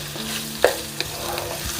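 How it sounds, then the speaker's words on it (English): Onions and meat sizzle in a hot pan for Persian ghormeh sabzi stew, with a steady frying crackle, scraping stirs of a utensil and a sharp knock against the pan. "doesn't burn the onions. I'm not concerned about browning the meat"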